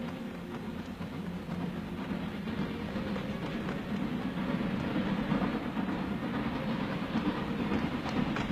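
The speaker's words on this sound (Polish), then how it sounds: "Dlaczego ten pociąg jedzie tak szybko?" A train rumbles past at speed on a bridge, a steady heavy roar with a rapid clattering of wheels on rails, loud and continuous throughout.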